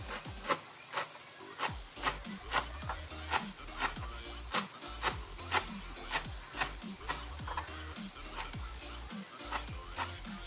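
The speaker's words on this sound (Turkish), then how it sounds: "Ardından maydanozumu doğruyorum." A knife chops parsley rhythmically on a wooden cutting board, quick regular strokes about twice a second, close and crisp, with no talking.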